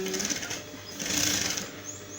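A sewing machine runs steadily, stitching a pocket onto a pair of shorts, with a continuous close mechanical whir that swells slightly mid-run and no talking over it.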